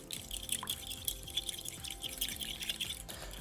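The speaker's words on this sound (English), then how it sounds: "and I whisk." Eggs whisked in a bowl for saffron risotto arancini, a quick, steady clicking and wet tapping of the whisk, close and fairly quiet, with no talking.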